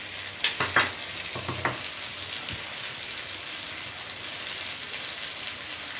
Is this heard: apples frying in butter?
yes